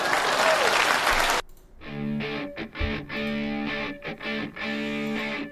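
A burst of dense applause plays loud for just over a second, then cuts abruptly into music.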